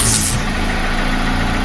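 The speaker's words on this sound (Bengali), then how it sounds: "বাইকের সাউন্ড তো আপনারা শুনলেন, মনে হয় ভিতরে কি জানি ভাঙা চুরা সব বের হয়ে যেতেছে" A worn second-hand Yamaha R15 motorcycle engine runs close by, giving a steady, rough idle hum with a brief higher burst at the very start and constant loudness throughout, with no talking.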